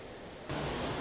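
Taytay Falls in Majayjay, Laguna rushes as a constant broad hiss of falling water, which jumps louder halfway through the brief moment.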